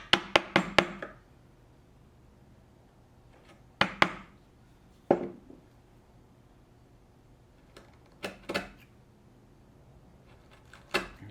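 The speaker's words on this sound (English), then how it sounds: "I'm bringing this wedge down into the material" Wedge being driven into wood with a mallet while building a pinhead shave horse, a series of sharp, close knocks in quick clusters separated by short pauses.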